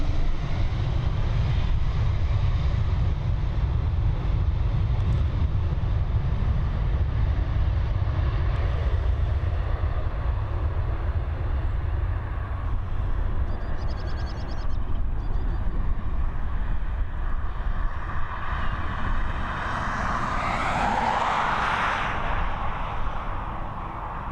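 A Ryanair Boeing 737 MAX taking off at Dublin Airport, its jet engines a loud sustained low roar that builds and then shifts to a rising, tearing whine near the end as the plane climbs away.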